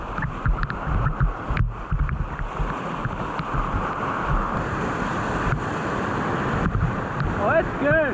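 Ocean waves roll in at a surfing beach in England, a broad washing roar mixed with gusty wind buffeting the microphone, with people speaking over it.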